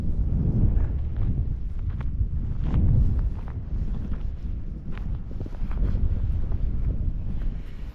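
Steady breezy wind on a beach buffets the microphone in continuous low gusts, loud and broadband, with no talking.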